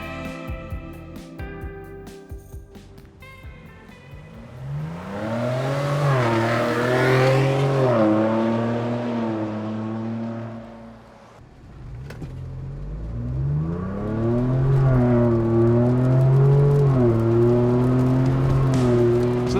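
A Ford Bronco fitted with a CORSA catback exhaust and cold air intake drives off, its engine loud and close as the revs climb through repeated gear pulls, dip briefly near the middle, then build again. No one speaks.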